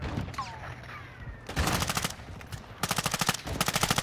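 Call of Duty: Modern Warfare II DMZ firefight, with a quiet opening followed by two loud, sustained bursts of automatic gunfire, the second a rapid rhythmic rattle of closely spaced shots.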